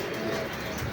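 A pigeon gives a soft, low coo, brief and close, over a faint hum of background noise.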